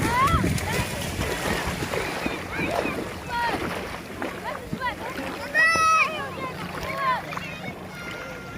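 Sea waves wash and splash around swimmers at sunset, a steady broadband rush with scattered nearer splashes, while a voice and other talk carry over the water throughout.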